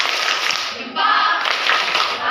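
A high-school class claps together in a classroom, a dense, continuous patter of many hands that dips briefly in the middle before picking up again.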